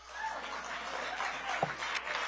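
An audience at a political ideas conference in Washington DC claps, a short, moderately loud patter of applause filling the room.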